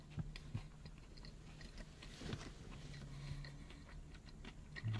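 Someone bites into a crunchy spicy fried chicken sandwich close up, a few crisp crunches followed by soft chewing in a quiet room, with faint clicking in the background.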